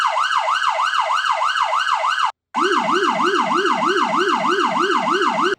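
A police siren on a Police Interceptor Utility cycles in its rapid yelp tone, loud and close, with a brief cut partway through before the fast warbling resumes alone.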